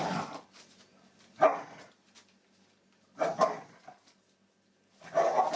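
Airedale terrier puppies and their mother play roughly, giving three separate bursts of close barking and yipping with quiet gaps between them.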